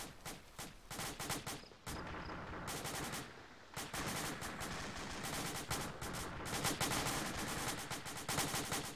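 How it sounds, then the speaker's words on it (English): Gunfire rattles through a tactical military shooter game on an island battlefield, with dense bursts of automatic fire and single shots, brief pauses between volleys, loud and continuous with no speech. "Still taking sporadic fire from the south"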